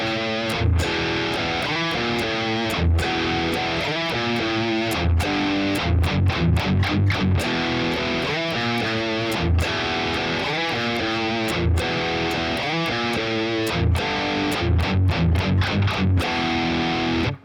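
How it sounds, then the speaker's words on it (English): Distorted electric guitar plays the main riff, loud and close, with chugging palm-muted notes broken by sharp percussive chord stabs in a repeating rhythmic pattern, with no talking. "it is basically the main rock out riff"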